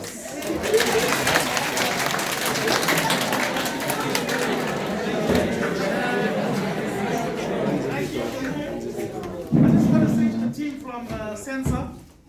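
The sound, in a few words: round of applause for SANSA visitors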